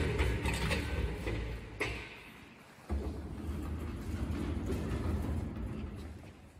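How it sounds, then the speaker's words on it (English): A pet head dryer runs with a steady, broadband mechanical whir. It stays close and fairly loud throughout, with a brief dip in the middle and a few knocks. "This is a head dryer."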